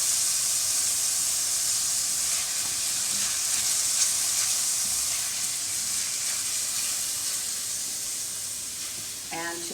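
Minced garlic sizzling in a hot pan, a steady loud hiss of frying that fades slightly over several seconds, heard alone at close range.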